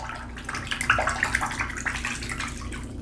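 Running tap water rinses shaving gear after a lather of eucalyptus and bergamot shave soap, a steady close splash and trickle with brief gurgles, no talking.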